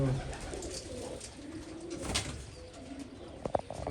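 Large breeding pigeons kept in a loft coo in low, soft rolling calls, fairly close, with a brief rustle and sharp click toward the end.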